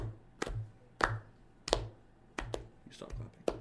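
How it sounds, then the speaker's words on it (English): A handful of sharp, separate claps from a small group during a podcast recording, spaced irregularly and fairly quiet, with a low steady room hum underneath. "Let's give them a clap."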